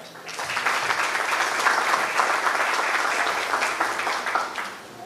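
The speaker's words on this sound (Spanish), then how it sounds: "Aplausos para ella." Dense, steady applause from a large audience at a Colombian awards night, Noche de las Mejores, swelling in quickly and continuing strongly for about five seconds before easing slightly.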